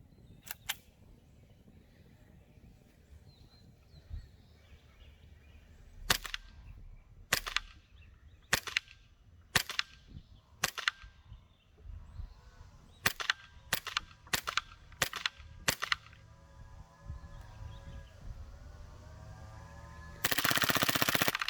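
Custom Resident Evil airsoft M9 pistol firing at a target about 30 feet away, a series of sharp, crisp snapping shots in irregular bursts, close and fairly loud, followed by a louder burst of noise at the end.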